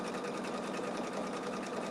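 An embroidery sewing machine, a Ricoma EM-1010, stitches a straight line for an in-the-hoop pouch with a fast, even, continuous mechanical chatter heard close and alone.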